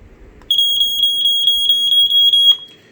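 A vintage circa-1980 FireX smoke detector sounds a rapid, piercing electronic beep, about eight quick pulses in a steady burst, loud and close, then stops.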